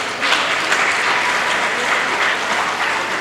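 An audience at a political gathering claps in steady, dense applause for a few seconds, fairly close and continuous.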